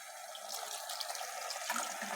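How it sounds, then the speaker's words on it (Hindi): Water poured into a pot of potatoes and minced meat for aloo keema, a steady close splash and trickle lasting a couple of seconds with no voices. "इसमें पानी डालूँगी, बहुत ज़्यादा पानी नहीं डालूँगी"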